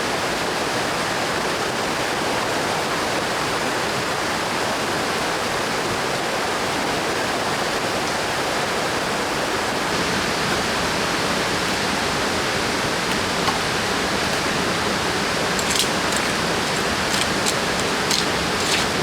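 Water rushes continuously in a jungle during heavy rain, a dense, even broadband roar that stays loud and unchanging for the whole stretch, with a few faint ticks near the end and no talking.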